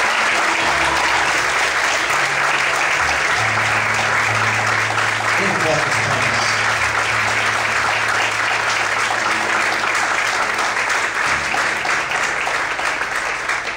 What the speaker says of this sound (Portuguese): Você pode aplaudir bem forte, Senhor.